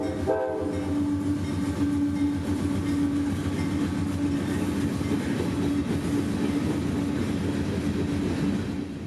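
A freight train carrying scrap rumbles past steadily and loudly in Lutz, Florida, with a long horn blast near the start and a continuous rolling clatter of cars throughout.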